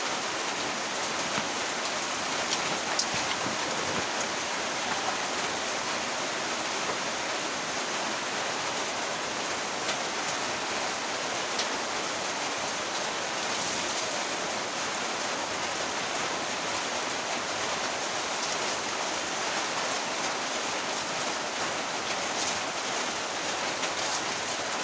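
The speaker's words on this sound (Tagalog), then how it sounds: "Lakas ang ulan guys." Steady heavy rain pours down continuously, a dense loud hiss with no pauses and no voices.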